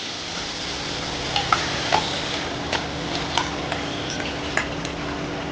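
Curd rice (daddojanam) with tempering is stirred in a bowl, giving soft, wet mixing sounds with several light ticks of a spoon against the bowl, close by and without any talking.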